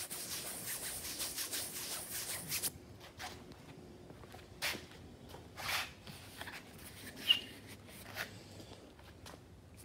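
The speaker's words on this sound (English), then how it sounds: "We're gonna scrub, scrub, scrub." Scrubbing on a misted mattress stain, a quiet, irregular rubbing and brushing texture with scattered soft scuffs and a few sharper clicks, close by with no talking.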